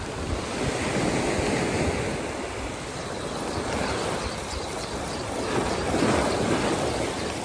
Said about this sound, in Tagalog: Lumakas na hangin.